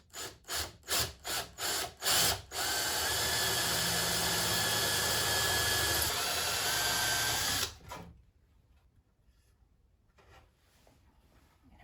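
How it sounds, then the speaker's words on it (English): A power drill bores through a wooden shelf bracket, starting with several short bursts of the motor and then one long steady whine lasting about five seconds before it stops, with quiet handling noise after. "So I got to pre-drill through the bracket too, right?"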